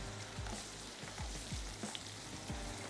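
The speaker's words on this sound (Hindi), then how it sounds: "थोड़ा सा और इसको फ्राई होने देते हैं" Green chilies and prawns fry in a hot pan for a spicy prawn curry, giving a steady close sizzle with a few louder crackling bursts and no talking.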